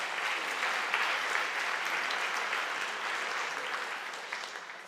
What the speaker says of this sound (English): So a big round of applause to all of our supporters.